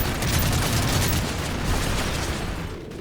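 Gunfire in Modern Warfare 3, a loud, sustained barrage of rapid shots and booming explosions blending into a dense rumble before easing slightly at the end, with no voices.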